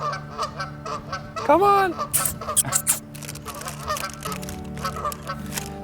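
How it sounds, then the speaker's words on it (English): Canada geese honk loudly at a park, a burst of harsh, rising calls up close that come in several quick repeated notes, with a person briefly talking over the birds and background chatter. "here come the Canadian geese"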